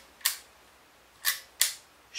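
Ansco Agfa Memo camera with a self-cocking shutter, its release clicking three times as sharp, close, isolated snaps with a fourth starting at the very end, no talk.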